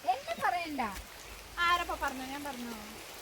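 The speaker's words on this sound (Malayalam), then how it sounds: "ഇതാ മഴയാണ്" Steady rain patters in the background while a person talks over it.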